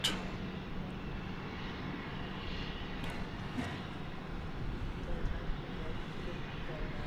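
An American Airlines airliner at DFW Airport at night, cleared for takeoff, gives a steady, distant engine rumble that stays faint and continuous throughout.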